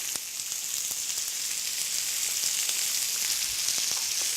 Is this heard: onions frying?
yes